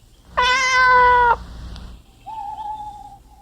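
A cat meows angrily in a children's story about the Bremen Town Musicians: one long, loud, harmonic yowl, then after a short pause a second, quieter and steadier drawn-out cry.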